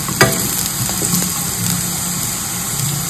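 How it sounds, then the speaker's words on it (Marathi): Pieces of elephant foot yam (suran) fry in hot oil, giving a steady close sizzle with occasional sharp pops and stirring clinks throughout. "थोडी 5 मिनिट आपण फ्राय करू, मग गोल्डन फ्राय होतात ते."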